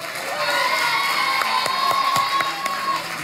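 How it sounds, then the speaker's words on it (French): Crowd at a Beyblade tournament cheers and claps for a winner, a dense mix of shouting, children's voices and scattered applause, loud and close throughout. "On applaudit très fort Abdel, notre premier gagnant de la première phase"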